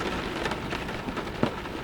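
Steady rain falls in a dense, even hiss with scattered drops landing close by, a soft unbroken wash of sound with no voices.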